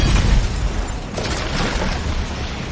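A catastrophic movie explosion: a loud, continuous booming roar with crackling bursts that rolls on for nearly three seconds without voices.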